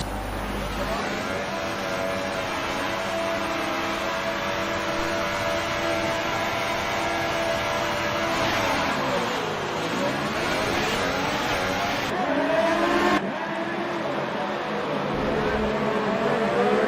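Race cars in a video game launching off the start at Monaco, a sustained layered engine roar with rising and falling pitch sweeps as the pack accelerates, steady and fairly loud throughout.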